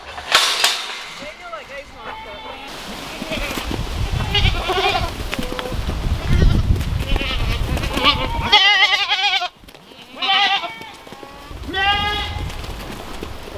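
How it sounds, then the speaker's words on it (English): Goats bleat repeatedly from a farm pen, wavering cries rising and overlapping at close range amid rustling and bumps, with brief gaps between calls. "I'm gonna let the goats go graze the other pasture, so maybe they'll quit all their whining"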